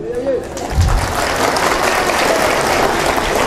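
Audience at a mushaira poetry gathering breaks into loud, sustained clapping that fills the space, with a voice briefly audible near the start.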